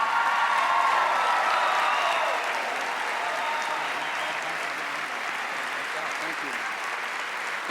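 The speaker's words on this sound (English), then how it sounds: "Give him a rousing applause as he comes to this stadium, Senator Marco Rubio." A large stadium crowd at the CUFI Summit applauds a senator's arrival with loud, dense clapping and some cheering that holds strong, then eases slightly while continuing.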